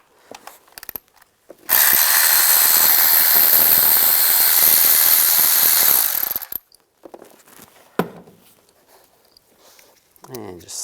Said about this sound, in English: And use a T25 socket.